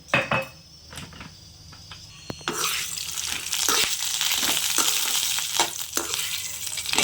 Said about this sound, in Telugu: పూల మకని ఫ్రై చేస్తున్నానండి. నేతిలో ఫ్రై చేస్తే చాలా రుచిగా ఉంటుంది.